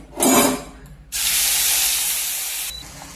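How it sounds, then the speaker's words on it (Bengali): Spices hitting hot oil in a frying pan while cooking a Bengali dish with hilsa fish head, with a short sizzle first and then a loud, steady hissing spray that gradually fades. "তেলটা গরম হয়ে গেছে, এবার মশলাটা দেব।"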